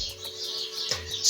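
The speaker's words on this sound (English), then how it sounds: "If you are hearing the bird sounds in the background, this is Africa for you" Birds chirp faintly in the background in an outdoor African setting, brief high tweets over a steady low hum, with no talking.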